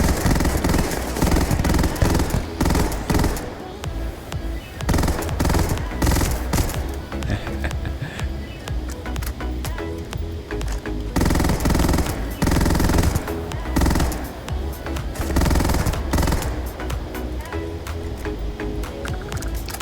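The Buzzcut gun in Starfield fires long, dense rapid-fire bursts, loud and close, with only brief pauses between strings of shots.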